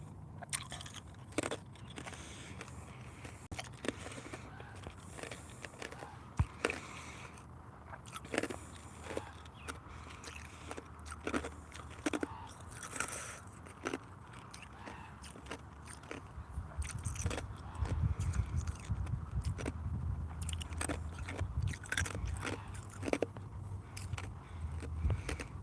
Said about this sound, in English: I'm chewing my ice now.